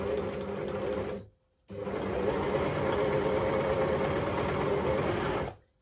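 A Jaguar 489 overlocker stitches and trims two layers of slippery dance fabric with netting between them, running at a steady loud whir close by, pausing briefly after about a second before starting again for a long continuous run.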